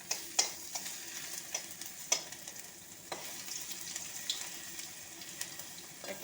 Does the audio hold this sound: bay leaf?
yes